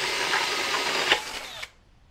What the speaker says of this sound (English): And I drilled them all out.